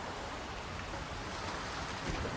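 Steady, dense video game rain from Wuthering Waves hisses evenly throughout, a full wash of drops with no voices.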